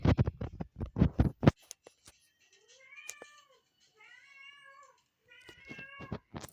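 A pet cat meows several times indoors, soft drawn-out calls coming in short bursts after a person talks briefly at the start.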